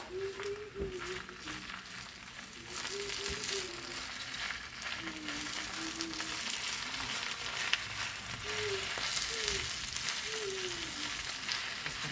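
Spinach sizzles and cooks down in a hot pan, a steady close frying hiss that runs throughout, with occasional stirring and a faint wavering tone underneath.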